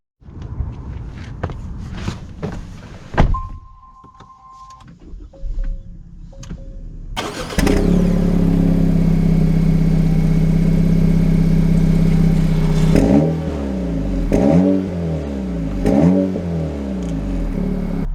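A 2023 Acura Integra with an automatic CVT starts up with a crank and settles into a steady idle. It then revs in several rising and falling bursts, loud and close, with no talking over it.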